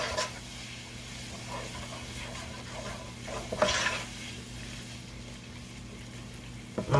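A flour-like thickener cooks in a pan for a keto pork chop mushroom gravy, stirred with soft scraping and a gentle sizzle, close and quiet, with a few sharper utensil knocks against the pan.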